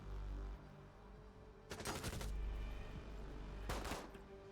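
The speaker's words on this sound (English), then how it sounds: "Tadix is gonna gun him down because Tadix is the gunner man" Rapid gunfire rings out in an esports game match, two separate bursts of automatic shots about two seconds apart over a low, steady background hum.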